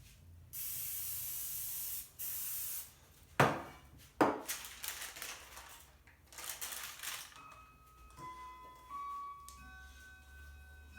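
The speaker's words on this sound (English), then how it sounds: "I will spray it down a little bit." Several short hissing bursts of cooking spray onto a parchment-lined baking pan for apple bread, then scraping and clattering of utensils against the pan, fairly quiet and close.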